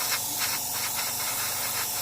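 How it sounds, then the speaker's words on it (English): Airbrush laying down paint in broad back-and-forth passes from a reasonable distance for a wide spray pattern over a large area: a steady close hiss that swells and eases rhythmically with each pass, alone. "all we really want is some nice passes back and forth"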